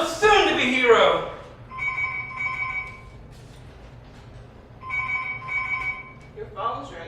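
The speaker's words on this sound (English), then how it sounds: "Your phone's ringing." A telephone rings in two double bursts separated by a pause, with a brief voice at the start and another at the end.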